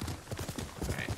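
Horse hooves clip-clopping in the video game Ghost of Tsushima, a steady galloping rhythm of close, moderately loud hoofbeats with a brief whinny-like tone near the end.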